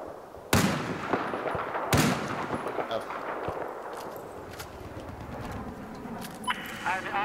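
Heavy Barrett .50 cal sniper rifle shots ring out in Battlefield 4, two loud close cracks about a second and a half apart. Scattered distant battlefield gunfire and clatter follow, with players talking over the action.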